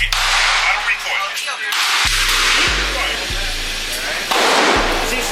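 Handgun shots during beginner firearms training at an outdoor range: several sharp, loud reports spaced about a second apart, each with a short ringing decay, while people talk and instruct nearby.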